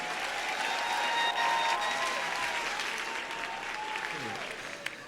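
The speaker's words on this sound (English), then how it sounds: "please give a nice round of applause for your classified and First Student Employees of the Year" A school district awards ceremony crowd breaks into a round of applause for the employees of the year, dense, sustained clapping heard from a distance with a faint tone running underneath.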